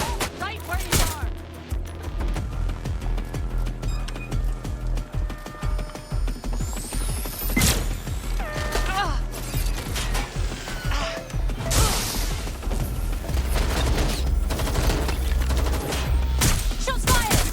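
Gunfire in the London-set action game Watch Dogs: Legion, repeated sharp shots and bursts in a busy firefight with clattering impacts and mechanical clicks, loud and close, with voices speaking between shots.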